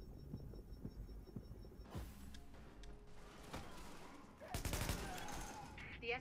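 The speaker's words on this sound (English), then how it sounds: "The escort party's taking heavy fire from the roof." Heavy gunfire in the video game The Division crackles in dense bursts and rapid volleys, loudest near the end, with muffled voices mixed in.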